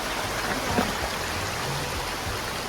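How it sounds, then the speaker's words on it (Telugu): Water from a waterfall rushes steadily over slippery rocks, a constant broadband roar heard close up with no voices. "వాటర్ ఫాల్స్ వాటర్ ఇలా వస్తుంది"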